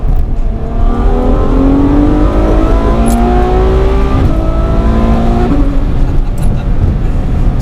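A Ferrari F12 V12 engine revs and drops through the gears in a series of rising and falling rev sweeps, close and loud, with no talk.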